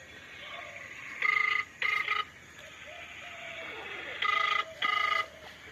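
A phone rings unanswered in two paired bursts of electronic trills separated by a pause, clear and fairly close against a quiet background.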